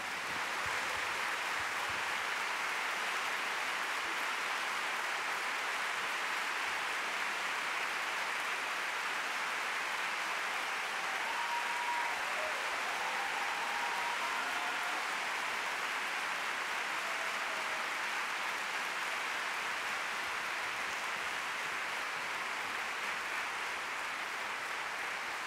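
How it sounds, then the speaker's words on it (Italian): A theatre audience at a talk in Florence's Teatro del Maggio keeps up a long, steady wash of applause. The sound is even and fairly distant, with faint murmurs under it. "Signori, un applauso."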